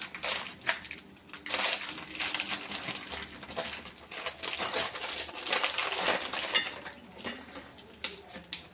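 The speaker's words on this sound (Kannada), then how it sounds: "ಈಗ ಪಾರ್ಲೆ ಗೋಲ್ಡ್ ಹರಿತೀನಿ ನೋಡ್ರಿ." Parle-G Gold biscuits being broken up by hand, a steady run of dry crunching and crackling with small clinks of a dish, close and continuous without talk.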